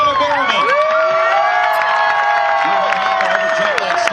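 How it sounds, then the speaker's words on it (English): A loud crowd at a motocross race cheers, whoops and shouts with applause, a dense high-pitched roar of many voices sustained throughout, with excited children's shouts rising above it. "Big round of applause for this kid, Tyler Bereman."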